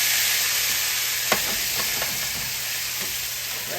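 Hash browns frying in a hot pan, a loud, even sizzle with a faint hiss running throughout, plus one sharp clank and a few soft scrapes as they settle.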